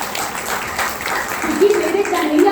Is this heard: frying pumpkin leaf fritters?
no